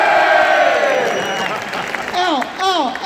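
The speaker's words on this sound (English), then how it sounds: "Give us another cheer, go on!" A crowd at a street march in London cheers and shouts, a loud rough roar with a few rising whoops and yells near the end, voices mixed into the din.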